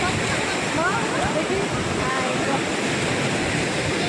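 Sea waves wash steadily onto the beach at Puri in the morning, a continuous broad roar of surf close by, with faint voices mixed in.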